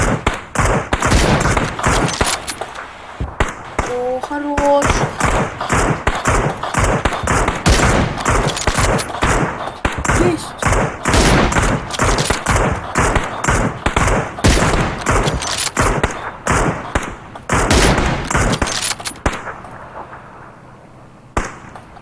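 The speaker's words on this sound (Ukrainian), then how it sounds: "вони там з ким-то стрілялись" Continuous gunfire fills a snowy battle royale video game, with rapid, loud bursts and volleys repeating for over twenty seconds. A brief voice briefly rises above the shooting.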